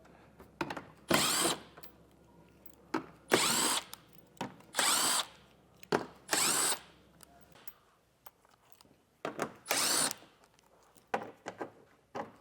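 Power drill with a 10mm or 8mm socket backs out screws from the underside of a vehicle's rear fascia, about eight short whirring bursts separated by pauses, close and fairly quiet.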